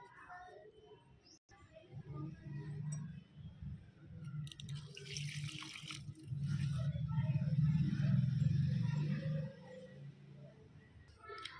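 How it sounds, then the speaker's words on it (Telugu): Water is poured onto potted flowering plants, a steady splashing trickle that swells louder midway, with faint outdoor ambience and no talk. "మీరు తప్పకుండా రెగ్యులర్గా ఈ నీటిని అందించేసేయండి"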